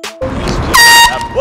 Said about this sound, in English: in the bag of Doritos, there's an air horn